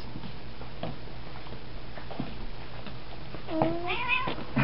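A cat meows a couple of times near the end, rising and falling cries over a quiet, steady background hum.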